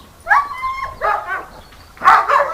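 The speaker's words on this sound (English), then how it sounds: "Stop Rita barking" A dog barks outdoors, three loud close yipping barks spaced roughly a second apart, with faint background hum between them.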